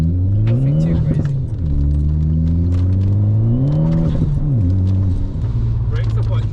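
An Alfa Romeo MiTo with a Stage 1 tune drives a wet B-road, its engine revving up and down through the gears with steady close droning and shifting pitch, while a voice talks over it.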